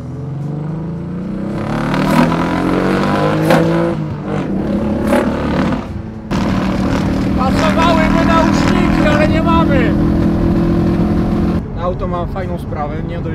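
Mitsubishi 3000GT VR-4 engine, left sitting for several years, running loud and close while misfiring slightly, with speech over it throughout.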